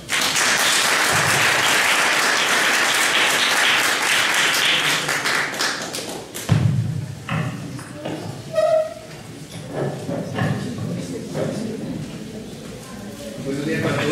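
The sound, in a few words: audience applause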